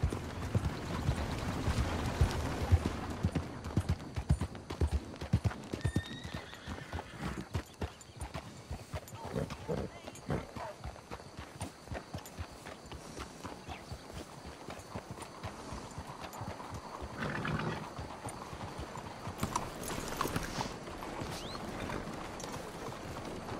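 A horse in Red Dead Redemption 2 clip-clops along in a steady rhythmic gait, moderately close, with occasional snorts and faint game ambience, sometimes overlaid by brief voices.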